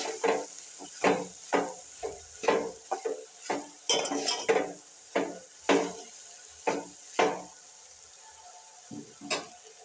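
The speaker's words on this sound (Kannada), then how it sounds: "ಈಗ ಇದನ್ನು ಮಿಕ್ಸ್ ಮಾಡೋದು" Ivy gourd stir-fry being stirred and mixed in a pan with a spoon, North Karnataka style, about fifteen distinct scraping and clinking strokes in a steady rhythm over a faint sizzle, close and clear.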